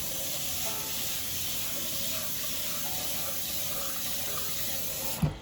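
Running tap water flows steadily into a kitchen sink as rice is rinsed for seafood yellow rice, a continuous close hiss with a brief splash near the end.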